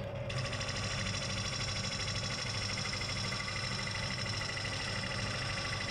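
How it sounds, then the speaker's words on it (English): A wood lathe gouge hollows a very tough wooden bowl, producing a steady, loud whirring drone of spinning wood and cutting that runs unbroken throughout, with no talking. "my lathe seems to like cutting in that direction, or that gouge I should say"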